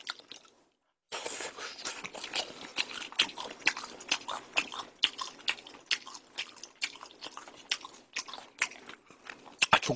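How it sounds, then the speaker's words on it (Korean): Jokbal, Korean braised pig's trotters, being bitten, chewed and torn apart up close, with a steady run of wet, sticky crunching and smacking bursts after a second of silence. "족발은 뜯어야 제맛이에요?"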